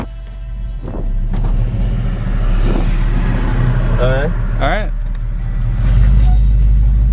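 A 1969 Chevrolet C10 CST pickup truck engine rumbles steadily while driving around the block, with a deeper swell near the end, as someone talks briefly over it.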